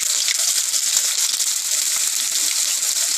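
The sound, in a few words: onions frying in oil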